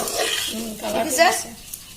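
Sliced onions with sugar fry in a pan for pulao, giving a soft, steady sizzle with scraping stirs of a spoon against the metal while someone talks over it.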